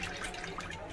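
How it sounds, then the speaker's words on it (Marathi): Chana dal being rinsed in water for puran poli, a continuous close wet sloshing and dripping that runs steadily for about a second with no talk. "परत दुसऱ्या वेळेस मी चण्याची डाळ दुसऱ्या पाण्याने धुवून स्वच्छ घेते"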